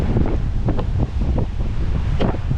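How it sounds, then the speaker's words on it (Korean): Strong wind roars steadily across the microphone at Cam Ranh Beach in Vietnam, with crashing surf mixed into the loud, continuous gusting. "오늘 바람이 엄청 부네요"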